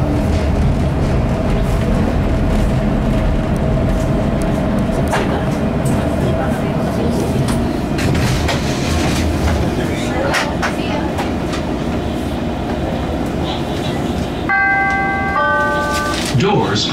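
Chicago CTA Blue Line 'L' train running at night toward O'Hare, a steady loud rumble of cars on the rails with clattering under a recorded announcement voice, ending in a rising multi-tone door chime.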